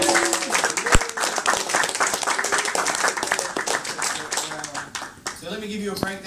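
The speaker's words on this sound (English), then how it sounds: "Please give her a round of applause." Audience applause at a live evening performance event, a dense burst of many hands clapping that carries steadily for several seconds before thinning out, with a voice speaking over the tail end.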